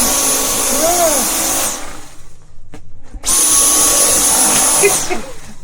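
A vacuum cleaner runs loud and close aboard a sailboat, drawn over a cat, with a steady roaring whine that cuts out for about a second and a half and then starts up again.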